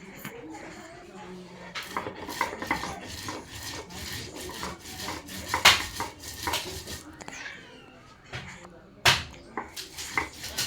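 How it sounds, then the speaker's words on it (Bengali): Mustard, cumin and coriander seeds ground into a spice paste: repeated rough rubbing and grating strokes with occasional hard knocks, uneven in rhythm and close, with a faint voice in the background. "মশলাগুলো বেটে নেব, সরিষা, জিরে আর কাঁচা ধইনে বেটে নেব।"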